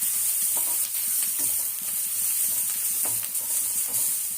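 Onions sautéing in a pan for a breakfast of kara kuzhi paniyaram, a steady close sizzle and hiss with occasional stirring scrapes and soft clinks.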